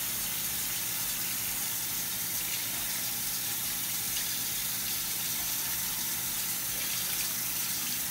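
Running water from a tap pours over a soap bar and a sponge in an even, close hiss that keeps going without pause.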